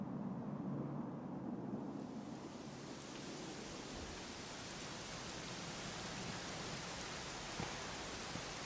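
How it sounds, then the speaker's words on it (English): Steady rain falls in the video game Dragon Quest XI S, a continuous broadband hiss that swells after the first couple of seconds and holds evenly throughout, with no voices. "it was raining like this the last time I ever saw her"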